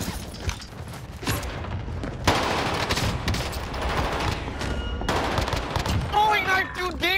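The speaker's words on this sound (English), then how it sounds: "Got a submachine gun here." Submachine gun fire in an online shooter: rapid bursts of gunshots over continuous action noise, with someone talking over the shooting and electronic game sounds near the end.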